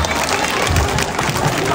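Audience applause mixed with crowd cheering erupts at a pageant's national costume segment, a loud, dense wash of clapping that holds steady for the whole stretch.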